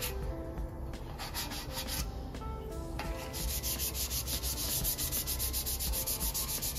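A car's rear bumper is hand-sanded with 320 grit sandpaper, giving continuous close rasping strokes in a steady back-and-forth rhythm, with no talking.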